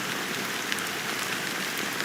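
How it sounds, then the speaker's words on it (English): Steady rain pours without a break in the video game Honkai: Star Rail, an even, hissing wash of drops spattering on surfaces throughout, with no voices. "how long has this rain been going on for?"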